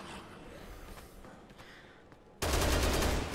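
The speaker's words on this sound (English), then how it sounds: "we got another heavy machine gun" A heavy machine gun in Dead Rising 3 breaks into a loud, rapid burst of fire near the end, after a quieter stretch of background game noise.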